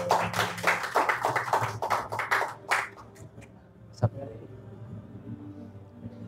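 Applause from an audience fills the first three seconds as a dense run of hand claps, then fades into quieter room sound with a single sharp tap later on.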